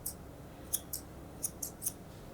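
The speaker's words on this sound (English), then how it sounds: "just come straight across using the tips of my scissors" Faint, sharp snips of scissor tips trimming a dog's foot hair close by, six quick cuts spaced unevenly over a soft background hiss.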